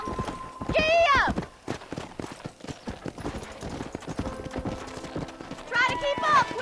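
Galloping horse hooves from Red Dead Redemption, a steady clip-clop rhythm running under a woman's speech, with brief synthetic whinny-like calls at the start and end.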